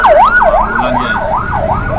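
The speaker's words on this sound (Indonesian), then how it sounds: "ambulan dikawal. Apa nih kok sirinenya aneh?" Wailing siren from an ambulance escort vehicle, a loud sweeping tone rising and falling in a steady repeating cycle, heard close from inside a car driving at night on the road.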